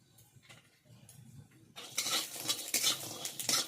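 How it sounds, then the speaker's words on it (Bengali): Lentil dumplings (bori) frying in mustard oil over low heat in a hot pan, quiet at first with faint clinks, then a louder crackling sizzle with scraping stirs in bursts. "সরষের তেল দিয়ে বড়িগুলো ভেজে নেব।"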